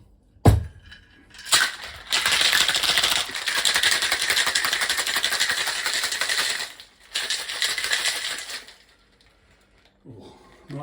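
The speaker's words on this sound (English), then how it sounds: "Add some ice and shake." Ice rattling hard in a cocktail shaker for a lychee martini, a loud, dense shaking clatter running for several seconds, briefly pausing, then resuming before stopping.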